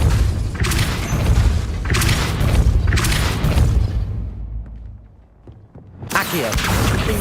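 Depulso, a force-push spell in Hogwarts Legacy, cast repeatedly as a string of loud, booming whooshes and thuds, with a brief quieter gap before another blast.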